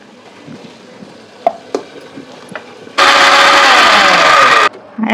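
A kitchen mixer grinder whirs loudly, grinding onions for a homemade chicken soup, running for nearly two seconds before cutting off; quieter clinks and handling sounds come before it.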